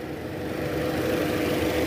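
A 2002 Toyota Camry engine idles steadily after an oil leak repair and balancer shaft work, a smooth continuous low hum with an even mid-range drone, no talk over it.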